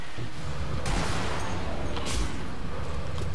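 Sniper rifle fire under sound masking in Sniper Elite V2, loud sharp reports bursting out over a continuous rumbling ambient bed of distant battle noise.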